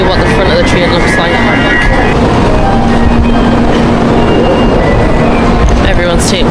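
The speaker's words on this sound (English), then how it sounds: "That's our train. Just pulled in." A Japanese bullet train pulls into a station platform, a steady broad rumble with rail clatter and station bustle beneath, as people chat nearby.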